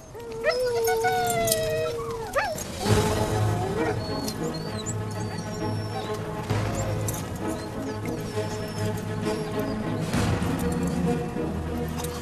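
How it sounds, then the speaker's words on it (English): Restless huskies used as sleigh dogs whimper, yip and howl in a noisy chorus, with high whines early on and overlapping barks throughout. "Huskies are originally from Siberia, where they've been used as sleigh dogs for centuries."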